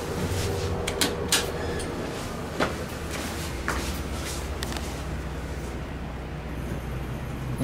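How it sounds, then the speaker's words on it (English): Dover Impulse traction elevator doors slide shut, with several sharp clacks and thumps from the mechanism over a low hum in a university engineering building hallway, no voices. "Let me send it up one floor just so I could watch the door close."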